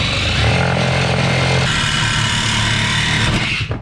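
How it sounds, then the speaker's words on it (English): A reciprocating saw cuts into a metal safe, producing a loud, continuous buzzing drone up close that shifts pitch partway through and stops at the end. "Not having any TNT on hand, we moved on to using a reciprocating saw."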